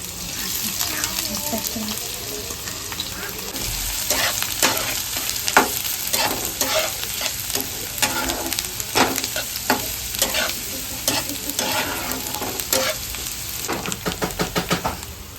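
Onion frying with a little cumin in a hot pan for a drumstick-leaf vegetable dish, with steady sizzling and repeated scraping stirs throughout, close and moderately loud.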